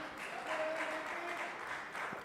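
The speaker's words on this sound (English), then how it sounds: "Applause again from the pavilion." Faint, distant applause rises from spectators at a cricket pavilion during a white-ball memorial match, a soft wash of clapping lasting a couple of seconds.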